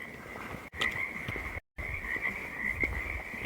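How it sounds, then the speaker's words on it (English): Frogs croak in a steady, dense chorus at dusk around ice caves in the woods. The calls are near and continuous with no voices, and they break off for a moment near the middle. "You hear them frogs?"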